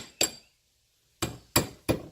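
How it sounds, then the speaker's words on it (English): Hammer taps a wet clutch part into place on a Yamaha Grizzly 700 ATV: one sharp metallic knock, a pause, then three quick close strikes in succession. "So what you do is you just take this, use a hammer or whatever."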